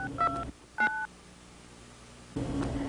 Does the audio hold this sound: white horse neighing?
no